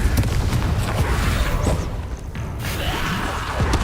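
Confringo explosion spells cast in the wizarding game Hogwarts Legacy, heavy booms and rumbling blasts arriving in quick succession amid loud, busy combat noise.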